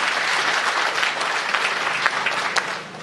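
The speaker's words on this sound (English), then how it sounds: "Let us give them all a round of applause" Audience at a development conference in Kakamega applauding, a broad sustained patter of many hands clapping, fairly loud and even, easing slightly toward the end.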